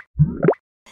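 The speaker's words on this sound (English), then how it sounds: "Splashing around in a warm pool of mud" A short, wet squelching splash in warm mud, two quick plopping bursts in close succession, near and fairly loud, then quiet.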